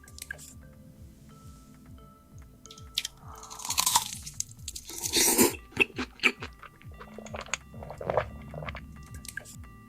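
Close, crunchy chewing and biting of fried chicken in AI-generated ASMR, with wet squishy bites and sharp crackling crunches in irregular bursts, loud and intimate, without talk.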